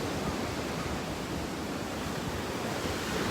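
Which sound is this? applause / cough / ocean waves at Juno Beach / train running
ocean waves at Juno Beach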